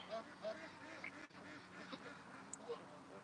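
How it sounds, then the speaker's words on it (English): Faint scattered quacks from a duck come through a busy background murmur, a few short calls spread over several seconds. "I hear a duck sneaking up behind me."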